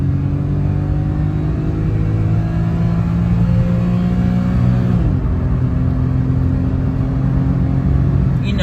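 A Daihatsu Mira Gino with a fuel-injected engine makes a quick acceleration pull, a loud steady in-cabin engine drone rising in pitch, with a brief shift-like dip midway before the drone resumes.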